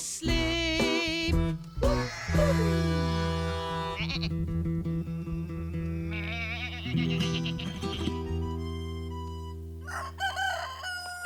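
Cartoon sheep bleating in a playful animated scene, several separate tonal bleats and crowing-like calls over a steady musical backing, close and moderately loud.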